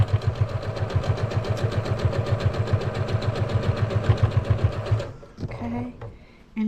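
A sewing machine stitches quilt rows together in a fast, steady mechanical chatter for about five seconds, then stops, followed by a brief handling sound.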